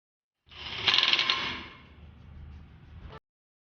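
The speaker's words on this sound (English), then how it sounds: "Now install the strainer cover with its O-ring and tighten all the 3 bolts of 8 mm." Bolts on a motorcycle strainer cover being tightened with a tool, giving a close burst of metallic ratcheting clicks that fades into quieter mechanical rattling, with no voices.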